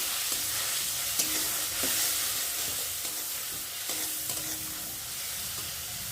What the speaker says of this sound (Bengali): আর এখানটা আমি দেবো এখন পেঁয়াজ বাটা আর টমেটো বাটা। ভালো করে ভেজে নেবো।